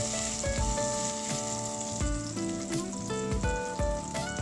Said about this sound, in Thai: ผัดเจียวไปให้พริกกระเทียมเราหอม